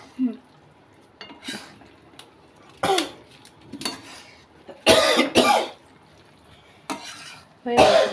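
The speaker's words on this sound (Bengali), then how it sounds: "এই তোমার এত হাঁচি কাশি আসে কেন ভিডিও করতে এলে?" Coughing in a home kitchen while pasta is stirred in a pan, a few short sharp bursts scattered among clinks of a spoon against cookware and soft sizzling.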